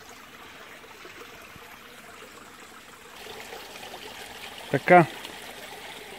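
Water trickles and flows steadily through a garden pond's filtration system, a soft continuous stream heard up close, with a brief spoken word and a couple of short louder splashes or knocks near the end.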